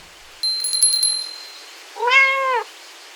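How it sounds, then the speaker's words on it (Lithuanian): A cat meows once, clear and close, as a sound effect in a radio fairy tale, preceded by a bright ringing bell-like jingle and heard against a quiet background. "paseksiu jums pasaką apie katiną Nietą ir pelytę Dzindzilytę"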